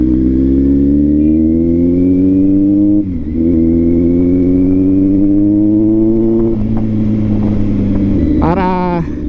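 A Kawasaki Z900 motorcycle with a fuel pump fault and acceleration problem revs loudly nearby, its engine note climbing and dropping in several long sustained pulls with brief dips between them, ending in a sharp blip.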